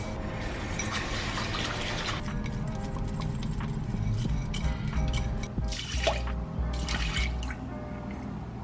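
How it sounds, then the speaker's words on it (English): Water sloshes and trickles steadily as rice grains are swirled and rinsed, with small splashes and drips throughout, close by. "So I'm gonna rinse this 2 or 3 times."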